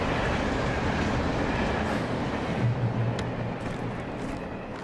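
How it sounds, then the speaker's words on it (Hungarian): A train in the Alan Wake Remastered video game rumbles past, loud and close, with a dense continuous roar and faint rhythmic clatter that eases slightly toward the end, with no talking. "Vonat."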